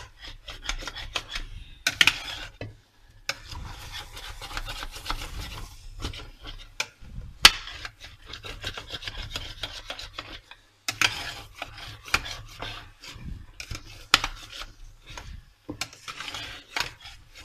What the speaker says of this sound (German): Eben schauen, dass alle Bratenrückstände da unten gut gelöst sind.